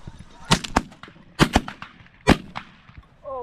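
Shotgun blasts ring out during a duck hunt, several sharp loud reports in quick uneven clusters, each with a short echo tail, and a faint duck call near the end.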